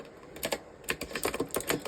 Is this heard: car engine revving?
no